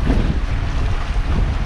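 Strong wind roars across a sailboat at daybreak in the Saint Vincent channel, with the rush of returning sea swell against the hull, loud and continuous with no speech.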